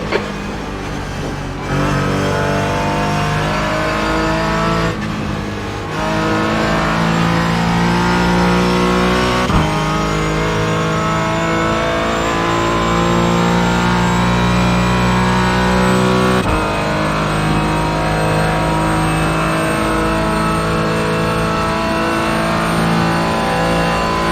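A Porsche Cayman GT4 in a sim racing game runs flat out down a Nurburgring straight at about 160 mph. The engine drones loud and steady with a rising whine, and brief dips mark gear changes. No talk.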